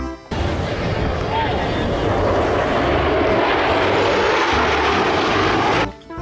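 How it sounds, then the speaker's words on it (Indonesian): A military airplane engine roars loud and steady for about six seconds, a broad rushing drone that fades in and cuts off near the end, with no one talking over it. "Pesawat militer."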